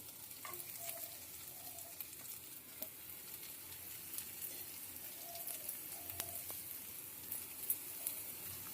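Grated paneer sautéed with spiced patol seed masala in a pan, a soft steady sizzle with occasional scrapes and light stirring clicks, fairly quiet and without talk.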